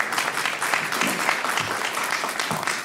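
Workshop audience applauding steadily in an indoor room, a dense wash of claps holding roughly even for the whole stretch at moderate loudness.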